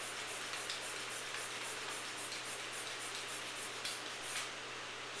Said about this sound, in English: We're going to pump this.